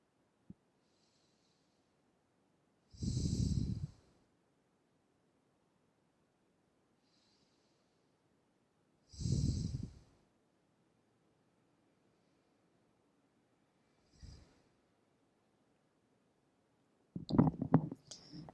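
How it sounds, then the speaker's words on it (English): Slow, deep breaths taken during a relaxation exercise, four soft breaths spaced several seconds apart, close and quiet, with near silence between them and no talking. "Three more breaths."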